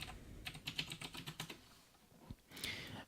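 Keystrokes tapped on a computer keyboard while a Linux command is entered, a quick irregular run of clicks in the first second and a half, then a short pause and a final burst of keys.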